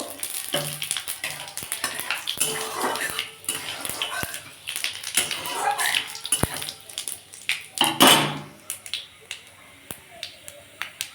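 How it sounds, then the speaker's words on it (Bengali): Dried red chillies and panch phoron five-spice hit hot oil in a karai for a vegetarian spinach chorchori, crackling and popping in busy, sharp bursts with scattered clicks of a utensil against the pan. "এর মধ্যে আমি একটু শুকনো লঙ্কা ফোড়ন দেবো একটু পাঁচ ফোড়ন দেবো"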